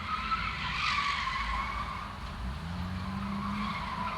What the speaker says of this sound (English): got some kids there doing donuts in the church parking lot